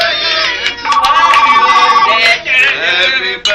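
An electronic telephone ring chirps in a steady warbling pattern, fairly loud and close, with brief breaks and other tones around it.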